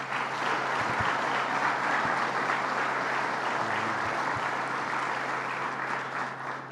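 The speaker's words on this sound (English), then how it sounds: "So let's give them a round of applause." Steady, full applause from the audience at a news conference on Alcoa jobs staying in Massena, a dense even clapping that holds at constant loudness throughout with no voices over it.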